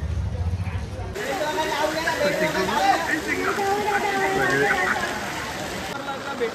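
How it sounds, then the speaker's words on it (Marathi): Heavy monsoon rain pours steadily while someone talks over it, the downpour loud and continuous beneath his voice. "मित्रांनो खूप पाऊस पडतोय"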